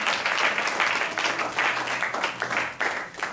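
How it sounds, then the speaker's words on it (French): An audience applauds a comedian, Pierre, on a French show; dense, steady clapping fills the clip at a moderate level, with bursts rising and falling throughout. "On peut l'applaudir aussi."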